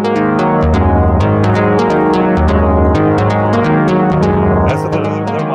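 1010music Synthbox Eurorack module playing a loud, busy electronic sequence with a driving bass line, layered melodic parts and crisp percussive ticks in a steady rhythm, with no voices.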